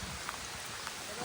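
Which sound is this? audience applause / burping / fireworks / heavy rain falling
heavy rain falling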